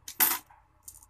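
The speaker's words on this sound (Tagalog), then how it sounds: "Pasukan mo ng barya." A coin drops into a piggy bank as a first saving, giving a short bright metallic clink with a small rattle and a fainter second tap just after, close by and alone.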